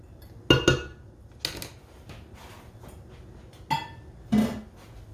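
Spoon scraping banana pancake batter out of a mixing bowl, four or five short knocking, clinking scrapes spaced apart, fairly close and moderately loud with quiet gaps between.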